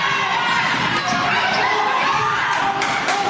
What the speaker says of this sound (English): The Panther crowd starting to make a little noise.